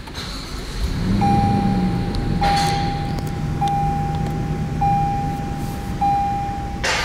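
A brand-new 2016 Toyota Land Cruiser with one mile on it starting up: the engine catches and settles into a low, steady idle while a repeating electronic chime beeps over it.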